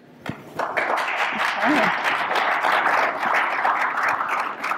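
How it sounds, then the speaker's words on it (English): Audience applause after a panel discussion on AI in telecom, a dense wash of clapping that swells quickly after a brief voice and stays steady and full to the end. "I know you all just applauded"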